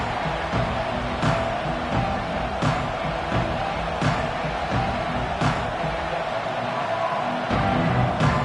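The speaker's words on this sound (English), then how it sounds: "This crowd ready to make its presence known." Football stadium crowd roaring steadily through a game after a runner steps out of bounds, a dense, loud wall of cheering with scattered claps and thuds and a commentator's voice faintly under it.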